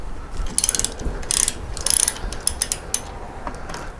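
Ratchet undoing a front shock bolt on a Kawasaki Vulcan 1600 Classic motorcycle, a close series of rapid sharp clicks in several short bursts with brief pauses.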